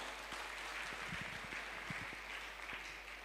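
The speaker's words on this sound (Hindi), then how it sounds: "मैं चाहूँगा सर के लिए जोरदार तालियां जरूर चाहूँगा।" Applause from an audience honouring Satyendra Prasad at a business recognition event in Bihar Sharif, Nalanda, heard as a faint, steady patter of many hands that carries on evenly throughout.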